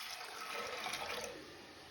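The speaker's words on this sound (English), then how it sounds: "Then transfer to pressure cooker. Add" Water pouring steadily into a pressure cooker holding soaked red beans, a continuous splashing rush that tapers off near the end, close and fairly quiet.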